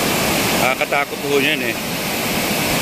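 Steady broadband rushing of a river current fills the clip, loud and continuous, while someone speaks over it.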